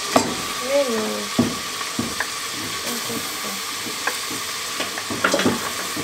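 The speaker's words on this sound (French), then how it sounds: "Une fois que les lardons sont finis, on ajoute les oignons." Onions added to bacon lardons frying in a pan, giving a steady sizzle with scattered soft utensil knocks and scrapes and faint voices in the background.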